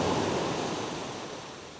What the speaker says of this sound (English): I'm walking along the beach this evening